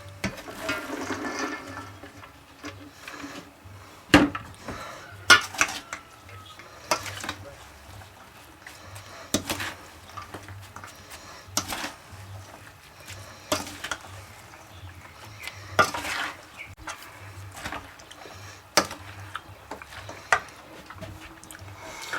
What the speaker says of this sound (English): now we're going to mix in our cabbage and our carrots